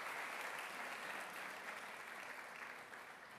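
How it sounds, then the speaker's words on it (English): Audience applause for a speaker in a church gathering, a dense, even wash of many hands clapping at a distance, tapering slightly at the end, with no voices. "Let's give him a round of applause."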